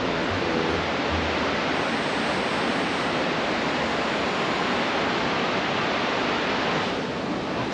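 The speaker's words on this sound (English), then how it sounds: "No, it's a waterfall coming off a mountain." Waterfall spilling off a mountainside at Rock Island State Park, a steady, dense roar of falling water that fills the whole clip at constant loudness, with no voices.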